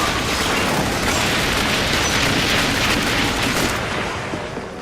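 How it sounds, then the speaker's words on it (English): Rocket bombardment from the video game The Bureau: XCOM Declassified, a dense, continuous roar of explosions and gunfire rumbling loudly for several seconds before easing off slightly at the end. "Rocket deployed. Bombardment, now! Hit it hard!"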